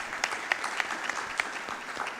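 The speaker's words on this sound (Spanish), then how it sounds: "un aplauso" An audience at a sports summit in Asunción claps softly, a thin scattering of distinct hand claps sounding some distance away at low volume.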